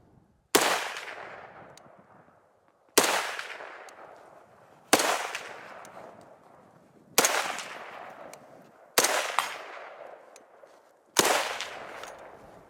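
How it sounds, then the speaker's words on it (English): A Czech VZ58 rifle fires six single shots at an even pace of roughly two seconds apart, each a sharp, loud crack followed by a long echoing decay outdoors. "this is a riotous rifle to shoot"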